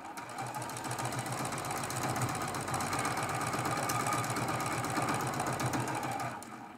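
A sewing machine runs one steady, unbroken stretch of fast stitching for around six seconds on a Christmas stocking lining sewn from fat quarter fabric, a fairly soft, even mechanical hum that tapers off at the end.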